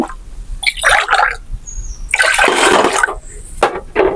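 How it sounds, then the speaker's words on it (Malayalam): Water splashes into a pressure cooker in several uneven gushes and trickles, close and fairly loud, with short pauses between pours and no talking. "കുക്കറിലേക്ക് ഒന്നര ഗ്ലാസ് വെള്ളം ഒഴിച്ചു കൊടുക്കുന്നുണ്ട്"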